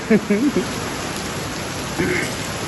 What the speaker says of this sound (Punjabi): ਫੁੱਲ ਮੀਂਹ ਪੈ ਰਿਹਾ ਐਨ